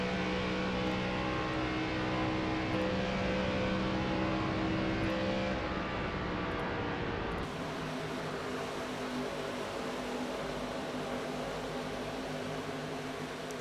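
Race cars in the video game iRacing at Chicagoland roar steadily at high revs, a loud continuous engine drone that shifts in tone partway through as the car note changes, with no talking.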